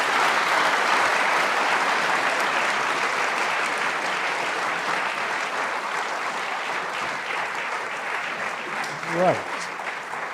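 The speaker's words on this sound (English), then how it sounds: "round of applause for Jon Sopel, please." A university audience in Southampton gives journalist Jon Sopel a round of applause, a thick, sustained wash of clapping that gradually eases before a voice speaks briefly near the end.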